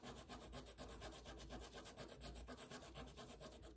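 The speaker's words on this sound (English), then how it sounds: "So I'm gonna rub over it with a popsicle stick." Popsicle stick rubbed back and forth over crayon on paper at a table, a steady rhythmic scraping rasp with quick even strokes, close and continuous with no speech.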